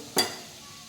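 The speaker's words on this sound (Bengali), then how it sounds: "তেল গরম হয়ে গেছে এবার এলাচ আর কিছুটা গোটা জিরে ফোড়নে দিয়ে দিলাম" Cardamom and whole cumin hit hot oil with one sudden burst of sizzle that fades into a quiet crackle, close and brief.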